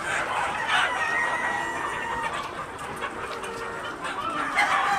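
Sonali chickens, a flock of laying hens, cluck and crow in a farm setting, with a rooster's drawn-out crow standing out over steady background clucking.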